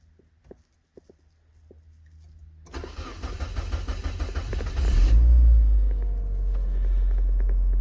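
A Mazda car engine cranks after maintenance and catches into a loud, rumbling idle that swells briefly as it fires up and then settles into a steady run, preceded by a few faint clicks.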